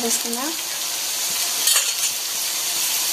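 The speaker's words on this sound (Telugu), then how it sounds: "ఇప్పుడు ఇందులోకి అయితే కాకరకాయ ముక్కలు అయితే వేసేసుకుందాం" Bitter gourd pieces go into a pan of frying onions, setting off a loud, steady sizzle with stirring scrapes and a light metallic clink partway through; no one talks.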